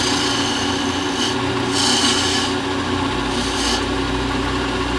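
A skew chisel cuts wood spinning on a lathe, giving a continuous close rasping, scraping hum with a few brighter swells of shaving noise and no talking.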